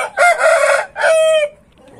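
A silver-coloured rooster crows close by in two loud, drawn-out bursts, the second trailing off into quiet, with no voices.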